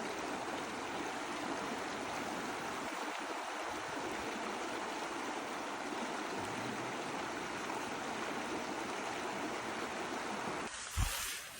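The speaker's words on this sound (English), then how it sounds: "We're gonna head down to the river and honestly just enjoy some time next to the river." A river flows in steady, close-up rushing water that stays constant throughout, ending with a brief thump near the close.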